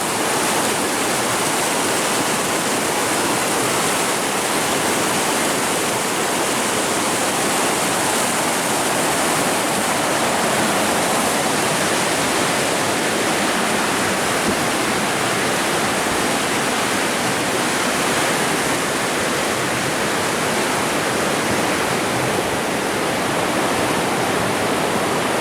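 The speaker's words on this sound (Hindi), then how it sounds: "दरिया बह रहा है।" A clear, clean river in Pakistan's Neelum valley rushes below a bridge, a loud, steady, dense roar of flowing water that continues unbroken with no voices.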